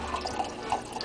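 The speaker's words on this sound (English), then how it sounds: "you take your white wine of choice, pour the first layer here." White wine is poured into a glass in a home kitchen, giving a short, soft, steady liquid trickle heard close and alone.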